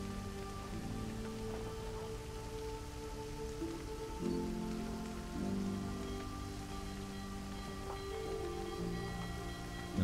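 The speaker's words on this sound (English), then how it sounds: "Rain." Rain in the video game Divinity: Original Sin 2, a steady hiss of rainfall running evenly throughout, mixed with sustained musical tones and no talk over it.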